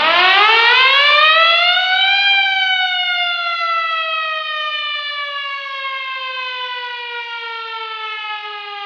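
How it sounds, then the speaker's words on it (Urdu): An old hand-cranked railway siren at a historic British-era station wails loudly alone, its pitch climbing steeply over about two seconds and then sliding slowly downward in a long sustained tone. "Hand siren."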